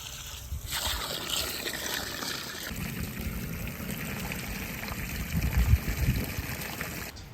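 Water turned on at a farm spigot runs in a steady close trickle and splash, building slightly louder toward the end, with faint rustling and no talk.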